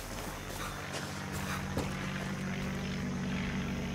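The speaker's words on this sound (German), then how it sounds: "ich höre da ein Flugzeug" Airplane flying overhead in the video game Far Cry 6, a steady droning engine rumble with a propeller-like hum that holds at a constant level throughout, alone without speech.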